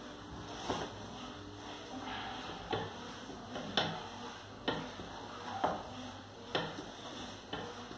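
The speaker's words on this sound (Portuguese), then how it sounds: "Quero ver, Thiago, se mexer uma panela de massa de coxinha" Coxinha dough is stirred in a pan over a wood stove, with soft sticky scraping and regular knocks of the spoon against the pan at about one per second, quiet and close.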